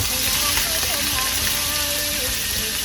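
Pork sizzles and fries in a pan with garlic, a steady dense crackle filling the whole stretch, close and loud, with faint voices or tonal sounds drifting underneath.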